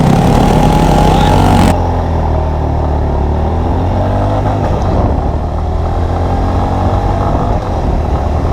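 A Royal Enfield Classic 350 and a Honda H'ness 350 drag racing side by side, their engines roaring loud and close in a steady, sustained drone that eases slightly after a harsh opening second.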